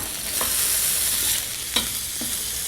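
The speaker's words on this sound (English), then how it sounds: "And we're going to saute these up here for about a minute or so" Cauliflower, celery, green peas, red peppers and carrots sauté in a hot pan, giving a steady close sizzle broken by a few sharp stirring scrapes, with no voices.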